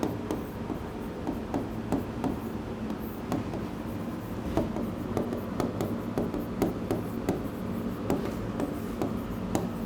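A teacher writes on a classroom board, producing a run of close, irregular taps and short scratchy strokes under a quiet room hum.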